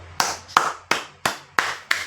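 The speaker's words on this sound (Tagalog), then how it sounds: "Palakpak!" Six sharp, evenly spaced hand claps ring out clearly and alone, each one crisp and close with a short decay, following a call to applaud during a heated political commentary.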